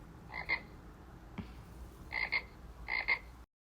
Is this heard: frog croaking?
yes